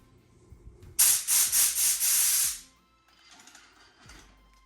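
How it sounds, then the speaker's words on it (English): Compressed air blasts out gunk from a 1972 Chevy carburetor in one loud hissing burst about a second and a half long, pulsing several times. Quieter rustling follows. "So I'm gonna blow it out with some air"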